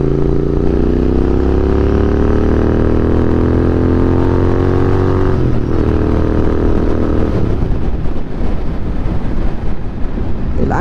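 A Royal Enfield Continental GT 650 motorcycle engine drones loudly while riding, its pitch climbing steadily through the gears before turning rougher and more ragged, with wind rushing over the microphone throughout.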